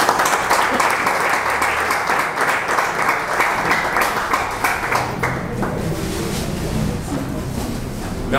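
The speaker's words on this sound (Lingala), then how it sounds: "On peut applaudir s'il vous plaît." A large crowd at a gathering for a band reconciliation breaks into dense, sustained applause, loud and continuous for several seconds, tapering only slightly toward the end.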